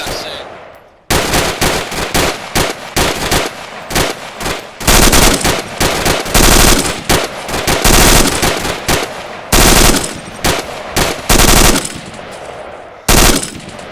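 Rapid bursts of automatic weapons fire at a target during a fire team drill, loud and close, with sustained volleys broken by short pauses and a few isolated bursts near the end.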